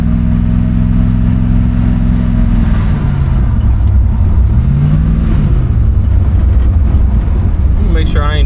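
A 1969 Ford Fairlane engine revs loudly under throttle, its low droning note climbing and dipping through the clip. It stays close and dominant, with a faint voice beneath it.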